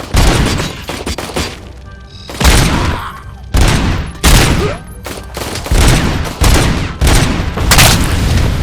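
Heavy gunfire in the video game Robocop: Rogue City, a dense, loud barrage of shots and booming impacts in repeated bursts with brief pauses between them, filling the whole stretch.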